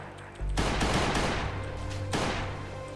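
Pistol gunfire in the survival video game Last Day on Earth: Survival, two loud, sharp bursts roughly a second and a half apart, each trailing into a dense wash of noise that carries through the rest of the clip, with no talking.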